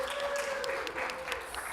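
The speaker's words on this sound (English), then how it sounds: "Give yourself a round of applause." Audience applause at a Comic-Con debate panel, a dense wash of clapping that holds steady through the short stretch and sits fairly close, with a faint voice faintly audible underneath.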